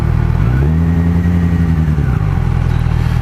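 A 2004 MV Agusta Brutale 750S motorcycle engine revs up and holds a steady high note for about a second and a half, then drops back to a loud, rumbling idle, recorded up close with no talking.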